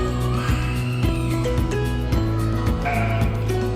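Several loud, nearby bleats from a goat or sheep, repeated calls overlapping one another in a quick irregular series with no talking.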